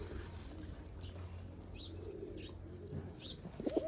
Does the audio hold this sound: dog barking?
no